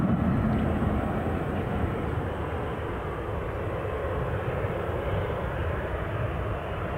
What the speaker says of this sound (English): We'll just track the returning plane in,